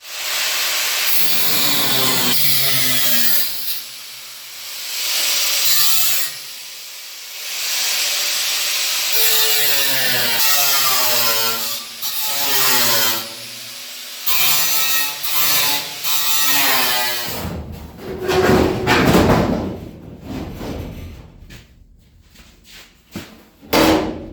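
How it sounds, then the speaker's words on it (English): A Cut & Butt cutter grinds through spot welds on a car roof in a series of loud, wavering whines, each cut lasting a second or two with brief pauses. Harsher scraping bursts of metal follow near the end. "I'm gonna get this here now, cut these few spot welds, and take this roof off."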